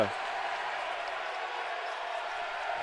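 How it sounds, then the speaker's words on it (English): Loud, steady crowd roar fills a basketball arena in Shreveport during an SCAC men's tournament semifinal, a dense wash of cheering that holds at the same level throughout with no pauses. "the crowd in Shreveport is loud"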